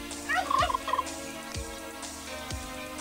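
A turkey gobbles in a film scene, one quick rattling burst near the start over a low steady background hum, followed by a few soft thuds.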